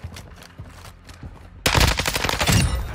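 Rapid automatic gunfire bursts out loud and close in a Modern Warfare 2 match after a quieter stretch of faint clicks and distant shots.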